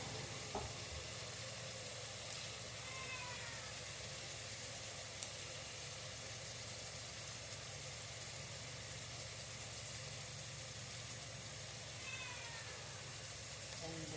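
Tomatoes and onions fry in a pan with a soft, steady sizzle that continues evenly throughout at low volume, with no talking.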